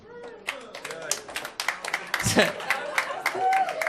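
Scattered clapping and a few cheers from a comedy club audience at Komedia Brighton, uneven and moderately close, with voices and laughter mixed through the short burst.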